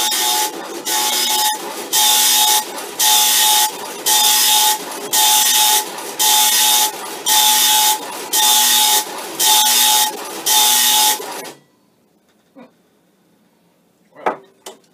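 A vintage tractor-feed printer hooked to a Commodore PET prints loudly in rhythmic bursts, about ten repeated line passes with a steady tone, then stops abruptly, leaving near silence and a couple of faint knocks.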